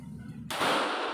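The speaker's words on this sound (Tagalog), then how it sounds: "Tag-isang putok lang, tag-isang putok ng shotgun." A single shotgun blast at an outdoor firing range during security marksmanship training, a sudden loud broadband crack that hangs and decays briefly after a low background rumble.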